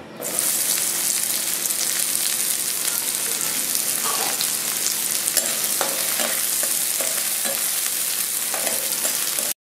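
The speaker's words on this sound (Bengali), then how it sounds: "তেল গরম হয়ে গেছে, আমি দিয়ে দিচ্ছি অল্প পেঁয়াজ কুচি" Chopped onion hits hot mustard oil for a fish-belly cutlet mix, giving a loud, steady sizzle that runs unbroken from start to end, with a few faint scrapes in the pan.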